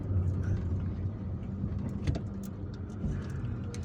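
Car driving through the streets of Algiers, heard from inside as a steady low engine and road rumble with faint passing traffic and a few light clicks.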